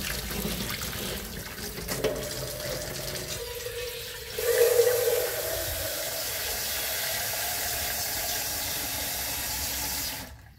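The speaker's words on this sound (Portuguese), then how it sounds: "Agora eu vou lavar minha mão aqui." Tap water runs steadily into a sink as hands are washed in a rural farmhouse kitchen; a continuous close splashing rush begins partway through and continues alone to the end.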